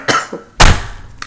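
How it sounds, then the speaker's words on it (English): Two harsh, close coughs burst out, a short one followed by a heavier, rougher hack, with a faint click at the end. "that's a smoker's cough right there"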